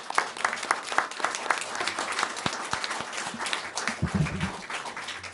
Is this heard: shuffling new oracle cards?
no